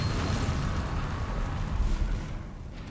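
A Bombarda spell in Hogwarts Legacy detonates as a loud, deep explosive rumble with crackling debris that swells briefly and then trails off.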